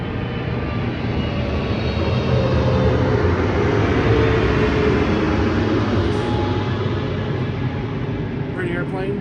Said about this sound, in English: we've got a 787 coming over right now.